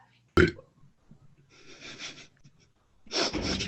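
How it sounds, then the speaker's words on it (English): A single loud burp made straight into a camera up close, followed by breathy, muffled vocal noises and a snort-like exhale near the end. "the other burping in the camera"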